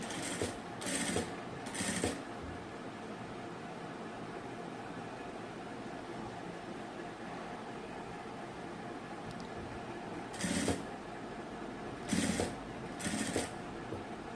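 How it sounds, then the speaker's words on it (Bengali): Sewing machine stitching fabric for a neckline design: a few short bursts of rapid stitching, separated by long gaps of steady background hum, with no talking. "এটাকে ঠিক একই সিস্টেমে এভাবে করে আমি সেলাইটা করে নেব।"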